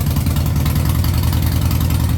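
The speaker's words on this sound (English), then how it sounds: "Very stereotypical Harley Davidson sound." A loud, deep 2008 Harley-Davidson Street Bob engine idles with a lumpy, rhythmic rumble, close up and continuous with no other sounds.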